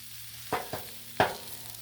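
Sliced mushrooms on a Blackstone griddle, cut and scraped with a large metal flipper: three quick close scraping strokes over a faint low sizzle.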